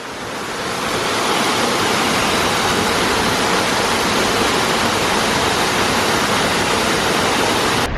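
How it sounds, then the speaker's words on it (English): Bigar waterfall in Romania, a cluster of thin shoestring cascades, pours in a steady, dense rush of white water that swells in over the first second and holds loud and unbroken. "it's like a little complex of shoestring waterfalls"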